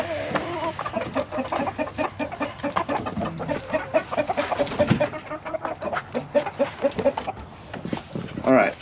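Continuous rapid clucking and squawking from a rooster up close, with other fowl mixed in, busy and unbroken throughout.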